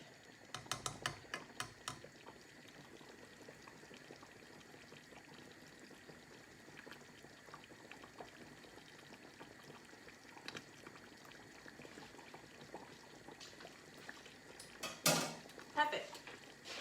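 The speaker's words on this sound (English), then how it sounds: "And then just give that a little stir, give it a little taste." A vegetable enchilada filling is stirred in a pot, giving quiet scraping with crisp clinks of a spoon against metal at the start and a louder clatter near the end.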